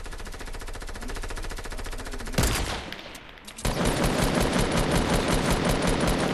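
Rapid automatic gunfire in a squad-based shooter video game: a steady close burst of shots, a brief louder blast and scuffle, then sustained firing again. No talking is heard.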